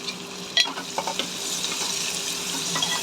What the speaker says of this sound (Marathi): आता हा बारीक चिरलेला कांदा टाकायचा आहे, त्याला पण तांबूस होईपर्यंत, लालसर होईपर्यंत परतून घ्यायचं आहे